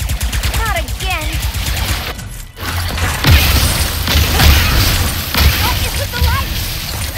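Weapon gunfire in the Ratchet & Clank: Rift Apart video game crackles in repeated bursts and impacts alongside mechanical effects and booms, while character voices talk over the action.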